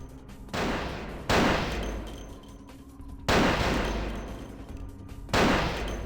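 Gunfire in the Vampire: The Masquerade video game arrives as four loud, sustained bursts of rapid shots, each lasting about a second and separated by short lulls, close and harsh over a low background rumble.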